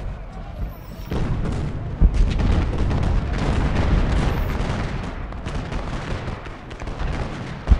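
Continuous low rumbling artillery and musket fire from a Civil War battle at Gettysburg in a strategy game, a dense booming wash with a few sharper thuds standing out.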